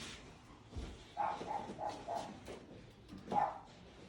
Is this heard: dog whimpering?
yes